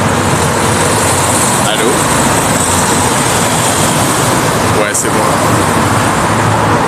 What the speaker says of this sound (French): Par contre, on entend de fou les voitures.